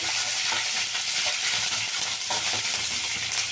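Green and dry chillies sizzling in hot oil with curry leaves for a pumpkin palya, a continuous close hiss with light stirring, no voices.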